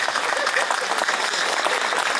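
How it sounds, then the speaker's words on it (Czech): Crowd at a street demonstration in Teplice applauds for a person, a loud, even spread of many hands clapping at once without a break. "poprosil bych tady o potlesk pro toho člověka"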